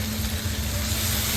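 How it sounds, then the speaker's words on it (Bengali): Chicken pieces frying in a pan over a high flame give a steady, loud, close sizzle with a continuous hiss and no break or talking. "একদম হাই ফ্লেমে ভাজা ভাজা করতে হবে"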